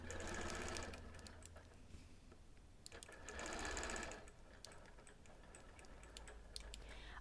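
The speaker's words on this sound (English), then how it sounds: "I'm just stitching to my chalked line, turning the corner, and then going on to the next one." A quilting machine stitches a quilt border along a chalked line, a fast mechanical needle patter that swells and eases in two bursts with quieter stretches between, faint and close with no speech.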